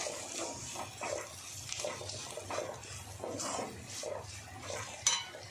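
A spoon stirs fried onion and red chilli masala in a pan, giving soft, repeated scraping strokes with a faint sizzle, close and moderately quiet.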